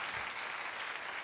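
Crowd applause at a professional wrestling event, the D-Oh Grand Prix 2021 at Korakuen Hall, a close, even patter of clapping that holds steady throughout.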